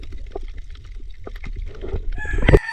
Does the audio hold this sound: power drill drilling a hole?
no